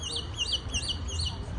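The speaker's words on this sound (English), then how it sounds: "Birds." Small birds in a rose garden give a quick series of four high, repeated chirping calls, fairly faint over low background rumble.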